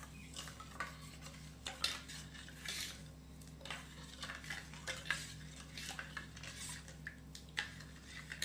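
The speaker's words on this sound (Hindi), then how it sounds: "इसको भी हम मिक्स कर देते हैं" A spoon stirs paan paste into thandai in a vessel, making faint, close clinks and swirling scrapes against the sides that keep going for several seconds; quiet, with no voices.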